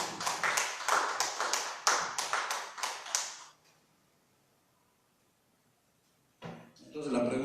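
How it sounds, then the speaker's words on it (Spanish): Loud, dense applause from a church congregation for a few seconds, then near silence before more sound starts up at the end. "Denle fuerte el aplauso."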